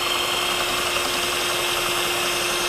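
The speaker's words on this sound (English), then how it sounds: "I brace the drill against my hand and" A steady, high-pitched motorized whine of a handheld drill cutting into glass runs without a break, grinding continuously with a constant tone and no voices.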